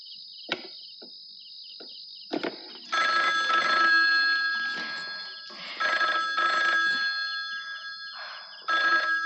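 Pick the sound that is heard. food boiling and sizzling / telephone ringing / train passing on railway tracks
telephone ringing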